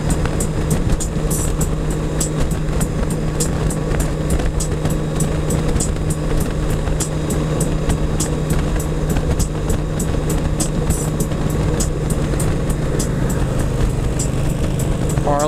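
A Honda Goldwing F6B motorcycle cruises at highway speed, with a steady, loud engine drone and road roar that continue without a break. Faint rapid ticking runs through it, and no one speaks.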